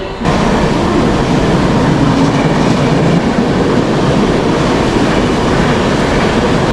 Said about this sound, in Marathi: ट्रेन जाऊ दे